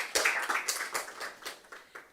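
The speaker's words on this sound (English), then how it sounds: "Please first clap for yourselves." A small seminar audience at a disability inclusion event claps in sparse, distinct claps at an uneven rhythm, fairly faint with no talking over it.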